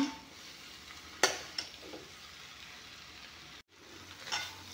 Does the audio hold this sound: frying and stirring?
yes